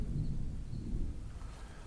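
Low rolling thunder rumbles steadily throughout, dense and booming, gradually easing off toward the end.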